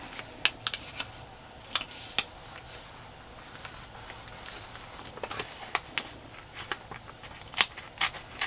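Scissors cutting paper for a glue book, a series of close, sharp snips and rustles at irregular intervals over a quiet background.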